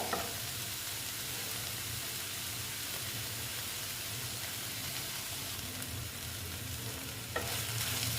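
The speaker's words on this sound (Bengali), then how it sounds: "মোটামুটি আমার এটা ভাজা হয়ে এসছে আর একটু হবে ভাজা" Data greens (drumstick leaf) fry in a pan with whole chillies, giving a continuous close sizzle and steady stirring scrape throughout, with no voices.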